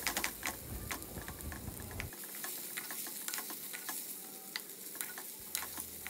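Bottle gourd pieces with turmeric and spices stirred and sautéed in a pan, giving a steady close sizzle with light scraping clicks from the stirring spoon, no voices.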